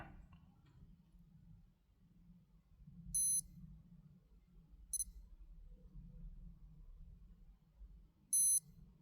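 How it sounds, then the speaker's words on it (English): A Citizen Promaster Divers AL0004-03W watch gives short, bright electronic beeps, a single beep followed later by a clipped one, then another beep, each crisp and alone over faint room noise. "what you should hear, as I said, is one single beep, and then almost immediately after a double beep."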